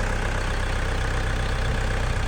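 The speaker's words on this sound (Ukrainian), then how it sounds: "Зараз передній міст включим." A JINMA 404 tractor engine runs at a steady, loud diesel idle while the front axle drive is engaged. It is a continuous low rumble from close by with no talk.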